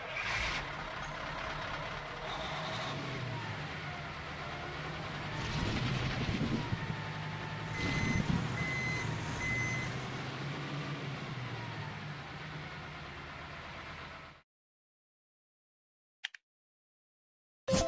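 A road roller working with its engine rumbling steadily and repeated high reversing beeps pulsing over it, a brief hiss like an air brake, the machine fairly close, then cutting off into silence near the end.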